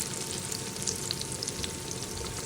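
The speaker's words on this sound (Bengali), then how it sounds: "পেঁয়াজটা যখন ভাজা হয়ে গেছে এখন আমি দিয়ে দিলাম আলু এর মধ্যে" Steady loud sizzling of potatoes added to frying onions in hot oil, continuous and close, with faint crackles throughout.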